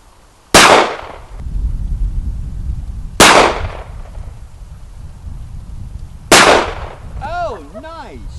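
A Ruger LC9S pistol fires three sharp, loud shots at an indoor range, spaced about three seconds apart, each followed by a brief echoing tail, with a faint warbling tone after the last shot.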